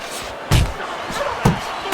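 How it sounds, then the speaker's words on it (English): Two solid smacks from right-hand punches to the head ring out in the Fight Night Champion boxing game, each a sharp, loud impact about a second apart, over a steady crowd backdrop. "Little head knocking with that right hand."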